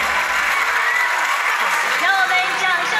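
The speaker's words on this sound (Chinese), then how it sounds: "让我们掌声有请时代少年团" A large crowd applauds and cheers at a Weibo awards ceremony as the boy group Teens In Times is welcomed, a loud continuous roar of clapping with high voices rising over it.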